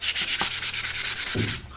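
Sandpaper worked by hand over automotive body filler, a quick, even series of about a dozen close, loud rasping strokes in steady rhythm before it stops.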